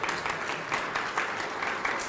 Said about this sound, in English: Yep, a round of applause.